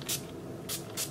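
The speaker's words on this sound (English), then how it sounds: "With the NYX mattifying long lasting setting spray." NYX mattifying long-lasting setting spray is misted onto a face in three short, soft hissing bursts, close and quiet, with no talk.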